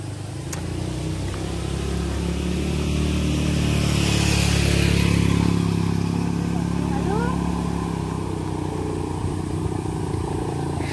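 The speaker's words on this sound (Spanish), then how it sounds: "yo oigo motos por un lado y motos por todos lados" Motorcycle and car engines drone steadily along a busy road, swelling louder mid-clip as vehicles pass close by, with continuous traffic noise throughout.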